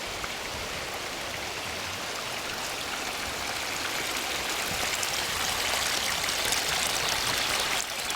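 Water trickles steadily down a mossy bank beside the River Greta, a continuous soft wash of flowing stream water that grows slightly louder toward the end, with no voices.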